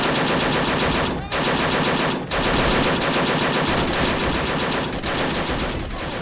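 Sustained machine gun fire in a World War II battle at the Iwo Jima airfield in Men of War: Assault, loud rapid continuous bursts broken only by two brief pauses.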